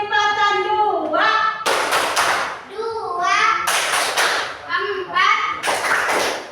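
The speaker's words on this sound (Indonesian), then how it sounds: "Coba kita tepuk kelipatan dulu ya. Tepuk kelipatan 2." Children clap in unison while chanting a count of the multiples of two in a classroom, sharp bursts of clapping alternating with their sing-song voices, fairly close and loud.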